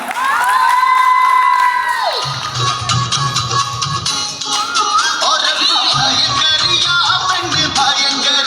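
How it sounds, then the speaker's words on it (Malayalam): Wedding guests cheer, whoop and shout loudly and continuously, with children's voices in the crowd and music ringing over the noise. "വെറുതെ ഇങ്ങനെ കാണിച്ചാൽ പോരാ, കൈയടിക്കണം"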